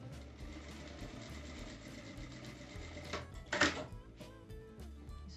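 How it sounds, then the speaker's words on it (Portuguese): A sewing machine runs a seam along a fabric strip folded twice, about 1 cm per fold, for a drawstring bag, a steady close whir with a brief louder burst partway through. "vou passar uma costura"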